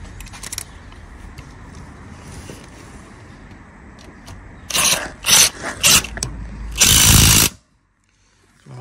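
An impact gun tightens a clutch bracket bolt on a Peugeot 107, several short loud rattling bursts near the end after quieter workshop handling noise, then silence.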